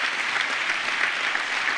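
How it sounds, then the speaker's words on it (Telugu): A church congregation claps loudly and steadily, a dense continuous burst of applause with no talking over it. "చప్పట్లు కొడతాం గట్టిగా."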